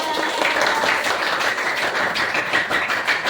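A room full of people clapping steadily and enthusiastically for a few seconds, dense and close.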